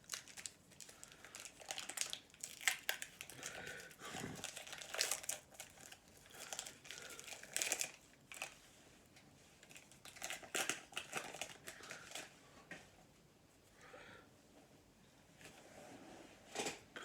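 Crinkly foil wrapper of an Upper Deck MVP hockey card pack being torn open and handled, a close, fairly quiet run of crumpling bursts and rustles with brief pauses, no talking.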